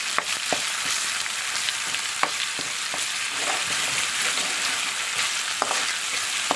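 Onion stalks and coriander leaves fry in hot oil for a fish curry, giving a steady dense sizzle with occasional stirring clicks and scrapes, close and continuous with no talk.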